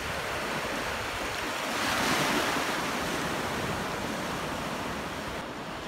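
Sea waves wash onto a beach at low tide, a steady broad roar of surf with a slight swell in the middle, continuous and fairly near, with no voices over it.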